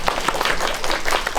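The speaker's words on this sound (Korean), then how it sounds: "감독님 박수 부탁드리겠습니다" Brief burst of audience clapping at a Korean film guest-visit screening event as director Yang Ik-june is welcomed, dense and fairly loud throughout.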